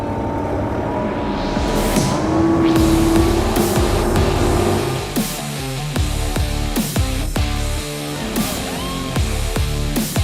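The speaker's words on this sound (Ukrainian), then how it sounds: "щоб ти сама навчилася управляти цією скаженою автівкою" Car engine revving and pulling away on a rural road, a loud close rising drone that gives way to rhythmic bumping and rattling as the vehicle drives over rough ground.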